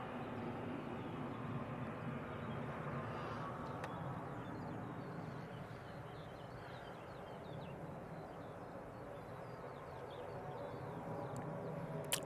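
Ryanair Boeing 737-800 operated by Malta Air taking off at Manchester Airport, bound for Valencia: a steady, broad jet engine roar held at constant loudness throughout, with no talk.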